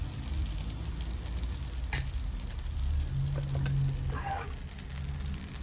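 A chicken bread omelette spread in a pan sizzles steadily over a medium flame, a soft continuous frying crackle with a few faint clinks, close and quiet with no talking.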